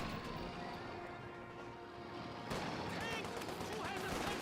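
Bursts of MG42 machine-gun fire in the Company of Heroes 2 battle game, loud and dense amid other battlefield gunfire, with a commentator talking over the action throughout.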